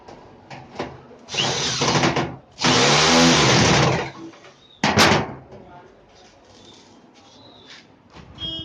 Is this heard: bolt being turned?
yes